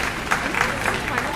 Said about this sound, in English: Let's reward all these exhibitors with a big round of applause